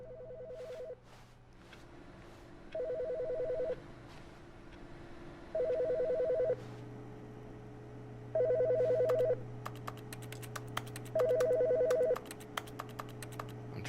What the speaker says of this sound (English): Well, the phone's ringing, so that means there's people still alive in the world.